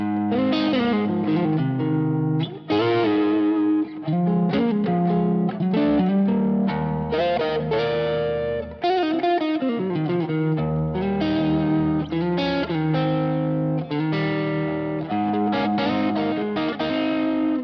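Electric guitar with its volume lowered plays a continuous busy passage with a gritty, lightly overdriven edge and a warm, slightly softened tone, close and steady throughout.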